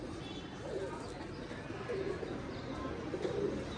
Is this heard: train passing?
no